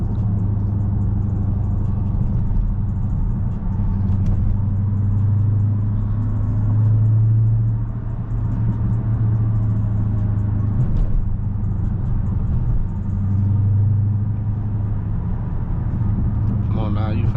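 Dodge Scat Pack engine pulling hard on a Chicago highway, with a deep, steady rumble and droning exhaust that swells in waves from inside the car while people talk over it.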